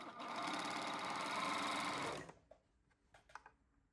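Sewing machine running steadily while stitching a skirt's kick pleat, a dense continuous whir for about two seconds before stopping, followed by a few faint clicks and handling noises.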